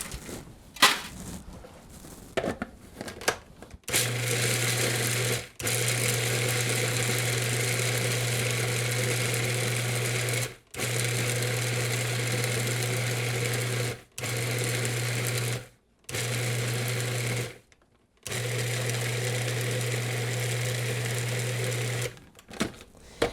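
A kitchen machine grinds chocolate for an orange chocolate torte, its motor whirring steadily in several long bursts separated by brief stops, loud and close with no talk.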